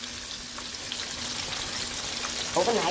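Buttermilk-and-egg-marinated pounded chicken cutlets fry in a pan with a steady, close, continuous sizzle and crackle throughout, with brief speech toward the end.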